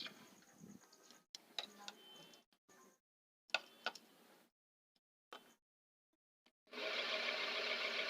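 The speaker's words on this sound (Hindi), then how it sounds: "ये देखो पंखा हमारा सीधा घूमने लगा है।" A ceiling fan switched back on after its capacitor wiring was corrected so it spins the right way: scattered clicks and handling knocks, then a steady, fairly loud broadband whir that fills the last second and a half.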